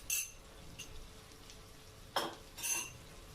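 Grated garlic cooks in melted butter in a pan, a faint low sizzle broken by a few light clinks and scrapes of a utensil against the pan.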